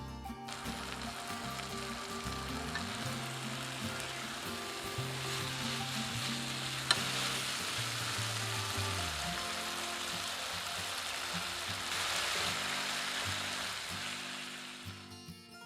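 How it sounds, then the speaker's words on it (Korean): Duck meat spread across a pan and cooked on high heat sizzles steadily and fairly loudly throughout, a continuous crackling fry with low rumbling underneath from the stove or kitchen. "팬에 오리고기를 펴주시고 불 켜고 강불로 익혀주세요"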